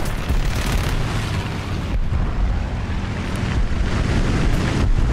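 Dense, roaring engine and gunfire noise from a CR.32 biplane under attack in War Thunder air arcade combat, a loud, continuous rumble with a sharp break near two seconds and no talk.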